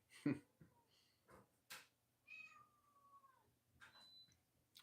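A cat meowing indoors, several short mews and one longer drawn-out meow, faint and close, with a few small knocks in between.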